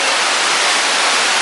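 Waterfall at Wawa Dam in Montalban, Rodriguez, Rizal, its water running brown, roars as a steady, dense, close rush that stays unbroken and alone for the whole moment.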